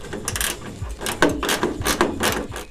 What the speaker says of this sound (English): so I have to undo this bolt